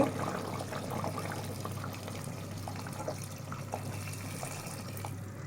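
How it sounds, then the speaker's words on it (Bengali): Hot water is poured into beef curry in a pressure cooker, a soft continuous watery pour and splash that runs throughout, fairly quiet and close, with no talking. "এবার আমি ঝোল দিয়ে দেব এই যে গরম পানি করে রেখেছি আগে"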